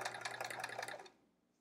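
A sewing machine is run by foot pedal while a quilt block is pieced, a fast close whirring stitch that runs about a second and then cuts off into near silence.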